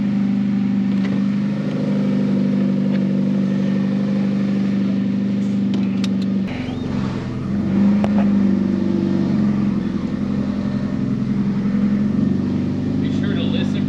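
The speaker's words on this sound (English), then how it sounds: "Hear that exhaust leak?" A car engine with an exhaust leak runs loud and close in a steady rumbling drone, and its tone shifts about halfway through.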